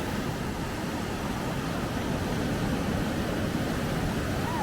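Atlantic Ocean surf washing onto the shore, a steady broadband wash of breaking waves that holds an even roar throughout without distinct individual crashes, close and moderately loud with no voices.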